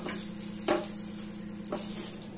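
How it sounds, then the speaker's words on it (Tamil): Sesame seeds, red chillies and asafoetida dry-roasting in a pan, a faint steady sizzle and crackle with a few soft taps from stirring. "எல்லாமே சேர்த்து இதையும் கருக்காமல் வறுத்து எடுக்கணும்."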